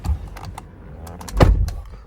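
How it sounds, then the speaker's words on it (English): A 2023 MG Hector petrol automatic's car door shuts with a solid, heavy thud, a single low thump standing out from quieter background shuffling and small clicks. "So the door shuts with a proper thud"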